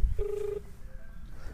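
A phone rings with a single steady electronic tone, heard faintly as if coming from a handset lowered about 100 feet underground, then fading into low background noise.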